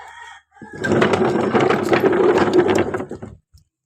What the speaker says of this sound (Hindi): हम देख लेते हैं अपनी मुर्गियों को, उन्होंने भी जो है ना झगड़ना छोड़ा है कि नहीं छोड़ा, क्योंकि बहुत ज़्यादा लड़ रही हैं